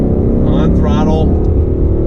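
A 2019 Ford Mustang GT Performance Pack Level 1 V8 accelerates under throttle, its loud, steady engine drone rising in pitch at close range, with someone talking over it.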